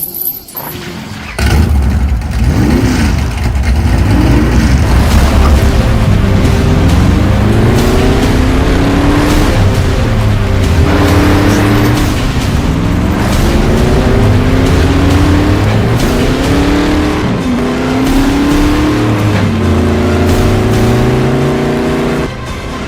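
A car revs and accelerates repeatedly while driving through the desert, the engine note rising and falling in loud, close sweeps that continue throughout.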